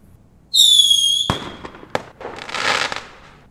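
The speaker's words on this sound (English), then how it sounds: "like a Roman candle, all this glittering energy starts going off behind wherever the guy is laying" Roman candle firework: a shrill whistling streak, then two sharp loud bangs followed by a rough crackling, fizzing burst that trails off.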